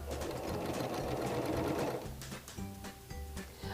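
A sewing machine runs steadily while chain piecing a quilt block, a continuous whirring hum that changes pitch near the end and is joined by a few lighter mechanical clicks, close and alone.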